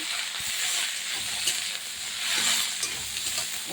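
Chopped bottle gourd leaves hit a pan with browned garlic and settle into a close, steady sizzle, with soft stirring scrapes and light hissing throughout and no talk.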